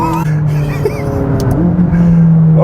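McLaren 570S V8 sports car accelerating hard, a loud close engine note rising in pitch through the revs and shifting once partway, heard alone without voices.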